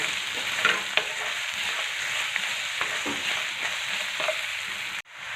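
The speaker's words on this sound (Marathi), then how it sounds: "कांदा आपल्याला छान असा परतून घ्यायचा आहे बऱ्यापैकी परतून झाला की त्यामध्ये आपल्याला जे आपण चवीपुरतं मीठ घेतलं ना ते घालून घ्यायचं" Chopped onion sautés in a pan with salt, giving a constant close sizzle broken by scattered scrapes and taps from a stirring spoon before it suddenly cuts off.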